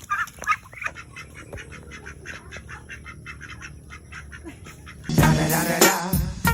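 A duck quacks repeatedly in a steady run of short calls, then a much louder, denser burst of quacking and commotion erupts near the end.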